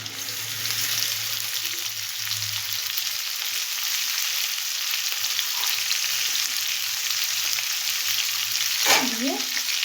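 Potatoes with chopped onion frying in a pan, a steady close sizzle and crackle throughout, with a brief stir or scrape near the end.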